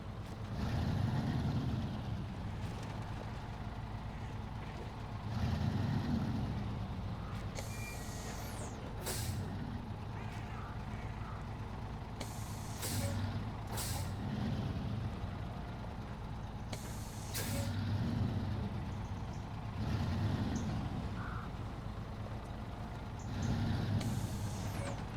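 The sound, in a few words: truck reversing to a trailer with air brakes, from video game Snowrunner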